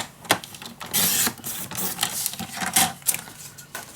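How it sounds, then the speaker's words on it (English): Scissors cutting paper from one measured mark to another while making a pocket for a desk storage box and mini album, with several close, brisk snipping and rustling bursts and no talk. "And I'm just gonna cut from mark till mark."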